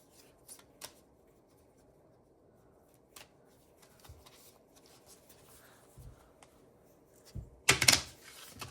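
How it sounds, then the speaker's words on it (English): A few quiet playing-card riffles and taps from a tabletop card game spread through a near-silent stretch, ending with a louder, brief burst of shuffling close by. "That was not a good shuffle."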